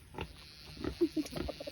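A few short, quiet grunts and oinks from a pig, close by, in a brief scattered series.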